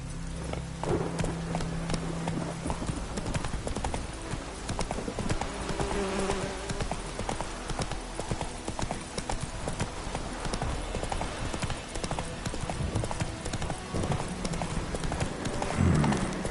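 Roach, the horse from The Witcher video game, gallops with a steady rapid clip-clop of hooves throughout, loud and close over a busy game soundscape, with a brief louder burst near the end.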